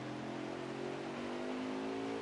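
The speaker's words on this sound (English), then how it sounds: "Yeah, you can definitely hear it in the 11th engine." Race car engine in a sim racing game at Martinsville, a steady loud drone with rising harmonic tones as it revs, continuous and close throughout.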